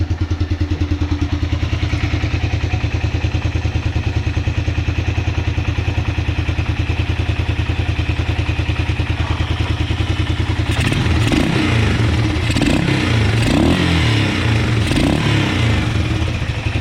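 A 1988 Suzuki QuadRunner LT 300 ATV engine, running without its air filter, idles steadily with a rapid putter, close and loud. Partway through, clattering thumps and rattles join over the running motor.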